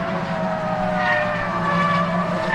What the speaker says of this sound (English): Hear the tyre squeal from these Avon tyres.